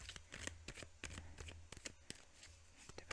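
Tarot cards being shuffled in a series of quick, crisp riffling and slapping bursts, close and fairly quiet, with no talking.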